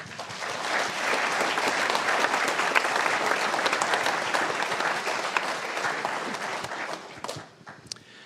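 A congregation applauds during a Thanksgiving Eve church service, a dense, even round of clapping from a large crowd that holds steady for several seconds and then tapers off abruptly near the end.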